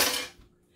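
Dry rice grains sprinkled into a dish, a bright scattering patter that lasts a fraction of a second before fading into near silence.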